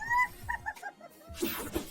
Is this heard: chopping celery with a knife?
no